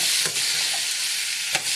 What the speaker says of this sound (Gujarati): અને હવે નાખી દેવું ચણા બાફેલા, એટલે આપણો નાસ્તો રેડી.